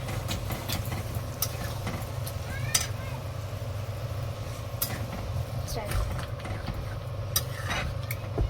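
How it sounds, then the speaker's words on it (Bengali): A spoon stirs chole in a cooking pot with scattered scraping and clinking strokes over a steady low hum from a stove or fan, all fairly faint. "ভালো করে নেড়ে নেব একটু।"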